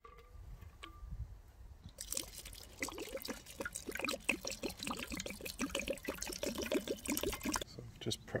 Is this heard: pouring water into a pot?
yes